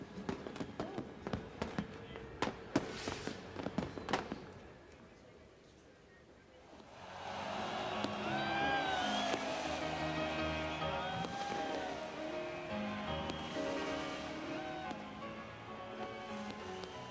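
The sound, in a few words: fireworks going off around the Eiffel Tower at midnight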